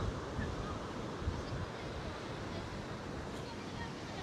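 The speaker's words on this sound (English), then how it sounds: "Power of the wind here is incredible." Strong wind buffets the microphone at the coast of Burleigh Heads, Queensland, a steady broadband roar with surf-like wash underneath, loud and continuous with no clear breaks.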